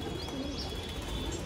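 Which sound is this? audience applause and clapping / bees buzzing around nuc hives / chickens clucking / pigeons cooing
pigeons cooing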